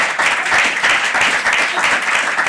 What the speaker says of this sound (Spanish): quiero pedir de vuelta un gran aplauso para nuestros dos invitados